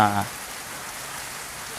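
Steady broadband hiss of rain falling on a surface during the first rain of the season, with a brief burst of voice at the very start before the rain continues alone.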